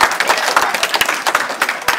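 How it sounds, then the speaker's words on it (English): Audience applause after two people are called up to the front at a presentation, a short burst of scattered clapping from a moderate crowd, fairly close and steady for about two seconds. "Let's give them both a big round of applause."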